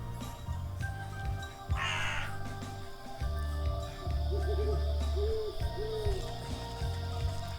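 An owl in the video game Wytchwood gives a few soft, low hoots against a constant ambient game background with faint music.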